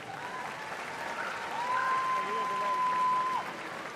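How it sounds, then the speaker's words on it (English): An audience claps for a presentation at the Crufts 2023 flyball competition. The applause is sustained and fills an indoor arena, swelling in the middle while a thin whistle-like tone sounds briefly. "a big round of applause, everybody"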